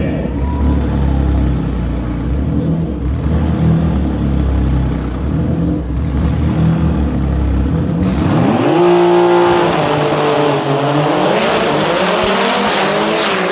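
Race car in the DCT Extreme class at the DCT World Cup making a fast drag run, loud engine roar building, then a sharp rising rev and howl as the car launches and pulls away, no talk.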